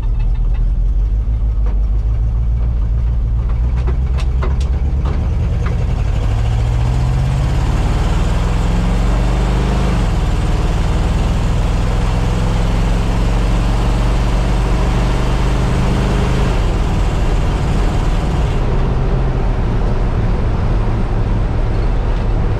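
A 350 V8 engine in a 1962 C10 pickup idles with a deep, steady rumble close by throughout, with a slight dip and recovery in its pitch partway through.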